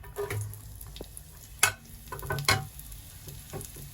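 Soft sizzling and crackling of onion frying in oil, quiet and close, with a few sharp clinks and scraping stirs.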